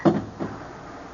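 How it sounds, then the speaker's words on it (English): A drawer slides open as a radio drama sound effect: a short wooden scrape and knock at the start, then a softer second bump, close and moderately quiet against a faint hiss. "Get that drawer open."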